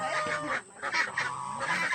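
Seven-week-old Pekin ducks honk and quack in a dense, continuous chorus close by, with a short lull midway before the flock's calls swell again.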